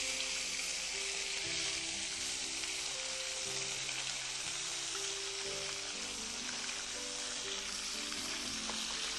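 Onion, tomato and ginger-garlic paste fry steadily in a pan, a continuous loud sizzle with light stirring clatter throughout, no voices.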